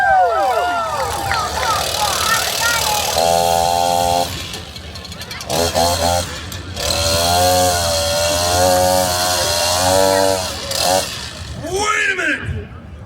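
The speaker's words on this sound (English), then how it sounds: "All right, saw on the ground. Foot in the handle. Hand on top and pull the cord." At a county fair, a chainsaw resting on the ground is pull-started and its engine sputters and revs in uneven bursts, loud and near, over crowd noise with people talking.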